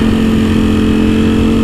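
A 2020 Ducati V4S 1100cc motorcycle engine drones loud and steady up close during a test ride, a constant rich V4 growl with no pauses or talk.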